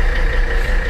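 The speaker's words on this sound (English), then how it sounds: "it is a very, very loud engine" A classic Mercedes-Benz diesel engine runs close by after the glow plugs are warmed, giving a loud, steady low rumble for about a second with no voices.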